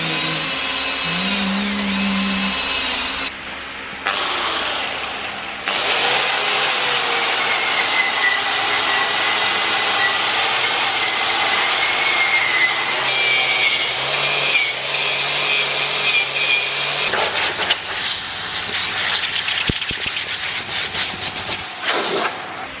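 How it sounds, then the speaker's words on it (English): A power grinder strips old gasket material off the transmission of a 34-year-old Sabb diesel, a loud sustained whining grind with brief stops and restarts and a rough scraping edge. "I just realized that there's still a gasket on the transmission, so I'm going to grind that off real quick."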